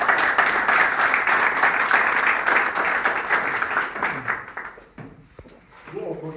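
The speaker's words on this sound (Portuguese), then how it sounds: "Uma salva de palmas para" A round of audience applause at a talk event, loud massed clapping that holds steady and then thins out, with voices emerging as it fades.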